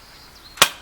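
A single sharp crack from a PX4 Storm blowback airsoft pistol, one close, loud shot standing out briefly against quiet background.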